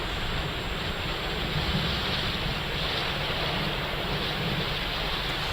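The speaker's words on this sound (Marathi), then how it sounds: "जिल्ह्यातील वेगवेगळ्या भागात पावसाची संततधार सुरू आहे" Steady, dense roar of heavy monsoon rain with wind in Pimpri-Chinchwad, Pune, a continuous broadband wash with no pauses.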